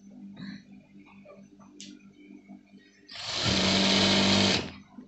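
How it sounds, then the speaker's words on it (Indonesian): An electric sewing machine stitching a jacket lining runs in one loud, steady burst of rapid mechanical whirring near the end, after quieter handling sounds and faint background noise. "Jahit pelan aja ya."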